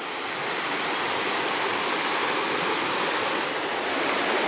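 Creek water rushes below a hiking trail, a steady, unbroken wash of flowing water that stays loud and even the whole time with no other sounds.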